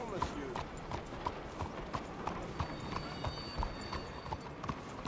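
Horse hooves clip-clop in a steady, repeating rhythm in Red Dead Redemption 2, fairly close and even in loudness, with someone talking over the hoofbeats.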